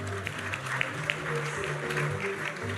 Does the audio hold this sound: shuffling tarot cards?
no